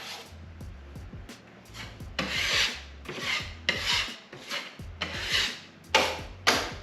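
A drywall knife spreads and feathers a flood coat of joint mud on a garage wall, making soft scraping and rasping strokes in irregular bursts with low knocks between them, close by and fairly quiet.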